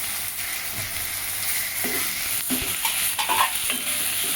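Chopped tomato sautéing in a pan for capsicum potato bhaji, a steady broadband sizzle with scraping stirs and spatula clinks, loud and close throughout with no voices.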